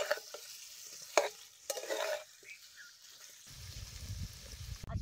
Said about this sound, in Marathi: आता हे तेलात कारलं चांगलं भाजलं या.